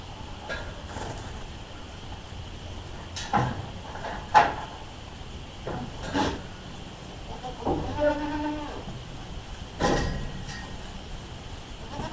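Several goat bleats scattered at intervals over steady outdoor background noise on a farm, moderately near and not very loud.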